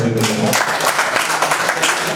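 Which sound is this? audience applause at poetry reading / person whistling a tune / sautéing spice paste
audience applause at poetry reading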